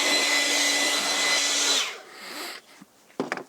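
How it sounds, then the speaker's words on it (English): A loud, steady air blower hisses alone for about two seconds while blowing sawdust off freshly cut garage step lumber, then cuts off, leaving a few faint clicks and knocks. "so we're going to blow off real fast."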